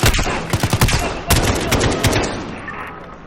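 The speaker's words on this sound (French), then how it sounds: "On se fait tirer dessus par un sniper dans la librairie" A burst of sharp sniper gunshots in quick succession, then scattered single shots fading into a reverberant, noisy background, in Call of Duty: Modern Warfare combat inside a bookshop.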